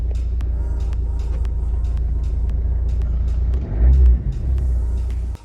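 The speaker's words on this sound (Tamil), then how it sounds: "ஸோ இது ஃபஸ்ட் நம்ம காரை ஸ்டார்ட் பண்ணுவோம், சரியா?" A car's engine rumbles steadily at idle, close and loud, with a heavier throb swelling briefly near the end as the motor revs, faint ticking and clicks scattered over the drone.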